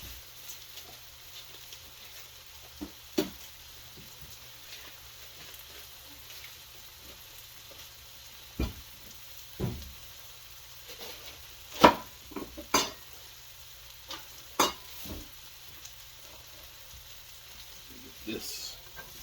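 Bacon sautéing in a pan, a quiet steady sizzle close by, broken by occasional sharp clinks and scrapes of a utensil against the pan; no talk over it.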